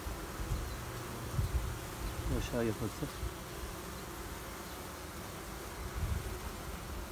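Honeybees buzz in a dense, steady drone around hives during queen bee rearing, with a brief voice speaking near the middle.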